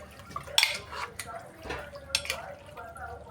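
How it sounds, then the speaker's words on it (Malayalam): A pot of washed beef with a cup of water being stirred with a spoon for a pressure-cooker mandi, giving soft scraping and clinking of metal against the pot, with a couple of sharper clanks, fairly quiet and close. "ഒന്ന് ഇളക്കി കൊടുക്കാം."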